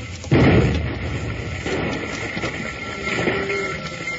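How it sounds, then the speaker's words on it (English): A dynamite blast in an old-time radio western drama set beside a train goes off as a sudden loud boom, then dies away into a rumbling tail. "All right, fuse is lit. Look out, Jingles. I'm throwing this out on your side"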